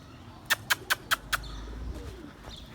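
Pigeons released into the air: a quick run of five sharp wing claps close by, then fading flutter against faint outdoor background.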